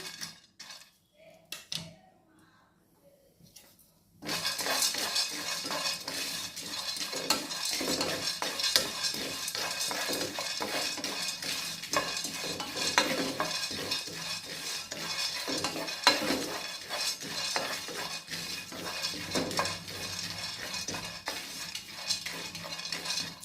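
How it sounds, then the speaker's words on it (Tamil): After a few quiet seconds, pumpkin seeds sizzle and crackle in a hot pan, with steady stirring and occasional scraping of a utensil, close and continuous. "இப்போ பம்கின் சீடு இருக்குது அதையும் வறுத்து எடுத்துக்கலாம் நல்லா சூடாகட்டும்"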